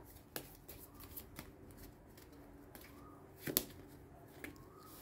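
Tarot cards are shuffled and handled close up, with quiet riffling and flicking, a few sharper card snaps, and faint soft brushing throughout.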